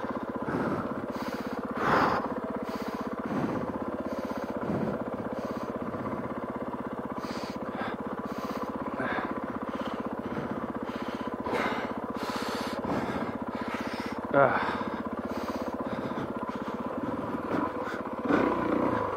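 A scramble motorcycle rolls slowly downhill over rough ground at a friendly scramble event in Limassol, giving a steady close rumble with scattered crunches, knocks and rattles from the bike and terrain.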